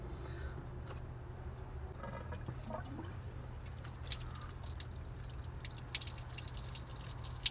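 Dirty coolant drains from a car heater radiator on an XU7-engined car, a quiet run of steady drips and trickles close by, with sharper splashes growing toward the end and no talk.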